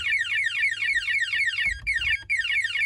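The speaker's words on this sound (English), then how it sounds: "wants to use the panic alarm and trigger it, they press 4 nines and it goes into alarm" A Texecom Veritas Excel security alarm panel in panic alarm, a loud electronic alarm repeating a fast descending warble over and over, steady and continuous, with a brief low thump midway.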